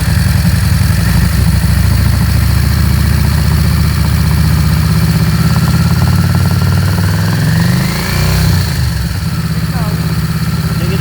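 A Yamaha Drag Star motorcycle with a faulty carburetor idles steadily close by, then is given a gentle blip of throttle near the end as the pitch rises and falls, with people talking nearby.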